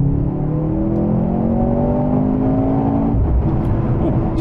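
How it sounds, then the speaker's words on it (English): A 2023 Mercedes-AMG C43 engine pulls hard under acceleration on a dual carriageway, its rising drone loud and continuous from the cabin, with a brief shift in tone near the end. "when I first accelerated in this car, I wasn't sure about the sound"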